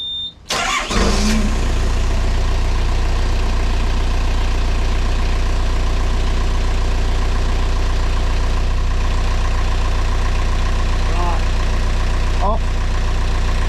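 A narrowboat diesel engine cranks and catches, then settles into a steady, loud idle that runs on without a break. A brief voice speaks at the start.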